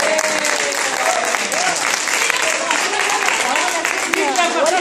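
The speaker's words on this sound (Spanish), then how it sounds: "¡Un aplauso para él!" An audience bursts into dense, sustained applause for a man arriving, with excited voices and cheering mixed in over the clapping throughout.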